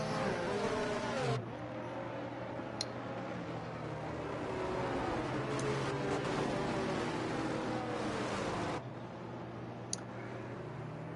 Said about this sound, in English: And there is the Mercedes safety car.